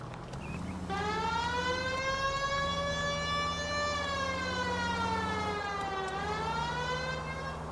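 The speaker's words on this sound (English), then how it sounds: "You know, we got a siren, Phelps." Police car siren in the video game L.A. Noire, a steady wailing tone that slowly sweeps up and down, fairly quiet and alone with no voices.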